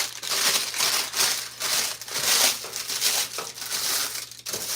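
Parchment paper being crumpled by hand in a kitchen, a continuous loud crinkling and crushing that rises and falls in rhythmic bursts with no talking.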